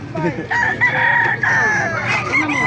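Chickens and roosters packed into a van at a Bocaue flea market crow and cluck in a dense, loud overlapping chorus, several birds calling at once close by.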